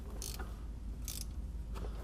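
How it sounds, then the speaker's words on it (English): A ratchet on long extensions tightens a starter bolt on a MINI Cooper. Three short, quiet bursts of clicking sound against a low background hum. "I've got a super long set of ratchet extensions, where I'm actually tightening it way over here by the brake"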